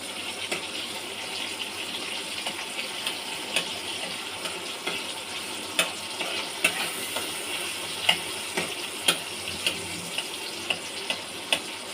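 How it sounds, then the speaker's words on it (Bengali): Tomato frying gently in a pan over a low gas flame, a soft steady sizzle with occasional light taps and clicks of a spatula against the pan. "মোটামুটি ভাজা ভাজা হয়ে গেছে, কিন্তু গ্যাসের ফ্লেমটা আমার সিম করা রয়েছে যাতে পুড়ে না যায়।"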